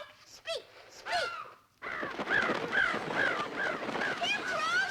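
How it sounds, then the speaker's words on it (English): Crows caw in a cartoon-style scene with a string of rising, harsh calls. They start sparse and then become busier and overlapping. Voices can be heard between the calls. "Hey, Dad, the crows came back, and they're not mad at us."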